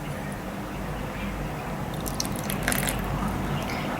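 Water trickles and splashes into a bowl of gluten-free pizza dough ingredients, a soft, close liquid sound that brightens into a brief gurgling pour toward the end.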